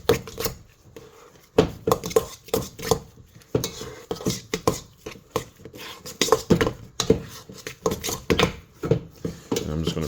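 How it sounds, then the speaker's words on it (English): Two sticks of butter are creamed in a bowl with a utensil, giving irregular scraping and knocking clatters against the dish, close and fairly loud, while a person talks over it. "so I'm just gonna cream this butter"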